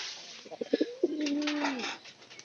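Pigeons at a loft, a few short soft calls followed by a long, low, rolling coo that swells and fades, close and clear over quiet background.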